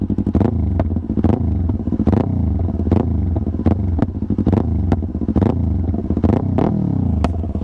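A motorcycle engine revved hard in an open area with no houses nearby, loud and close, with repeated throttle blips rising and falling in a choppy, uneven rhythm.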